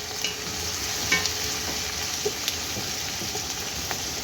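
Plenty of onions frying in oil in a pan, an even crackling sizzle with occasional light taps of stirring, close and steady with no voices.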